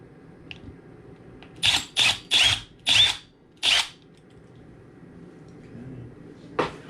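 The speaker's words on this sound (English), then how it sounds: "So we're going to get a little pilot hole." A power drill bores a small pilot hole into the edge of an IKEA Sektion cabinet face in five short, loud whirring bursts, with a brief quieter whir near the end.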